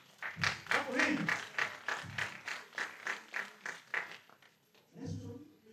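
A small audience at an entrepreneurship talk claps in a slow, steady rhythm, about a dozen even beats, with a few voices mixed in. After a short pause a voice speaks.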